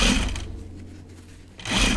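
A sewing machine runs through a long seam on jeans, a loud rapid mechanical whir in two close bursts separated by a brief quieter pause, with no talking.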